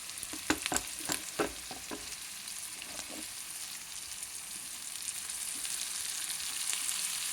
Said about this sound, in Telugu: టమాటాలు కూడా వేసుకుంటున్నాను.